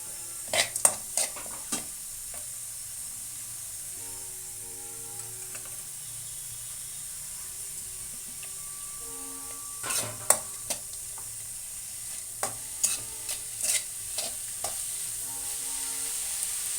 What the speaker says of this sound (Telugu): ఉల్లిపాయలు కొంచెం వేగాయి కదా ఇందులో అల్లం తురుము వెల్లుల్లిపాయలు వేసుకుందాం